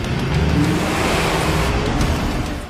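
A car pulls away and drives off, a loud, steady engine and road rush that holds throughout and tapers slightly at the end, with no voices over it.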